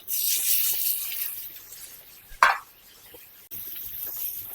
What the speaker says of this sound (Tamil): இந்த வெங்காயம் தக்காளி நல்லா வதங்கட்டும் கொஞ்ச நேரம் வதங்கட்டும்